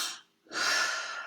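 A short, sharp gasping inhalation taken to open the diaphragm, following a softer breath and a brief pause; a close, breathy rush with no talk.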